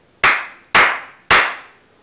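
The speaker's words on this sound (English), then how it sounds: "The easiest way is to simply clap your hands, for example, 3 times like this." Three sharp, close hand claps, evenly spaced about half a second apart, each a loud crisp crack with a short decaying tail in a quiet room.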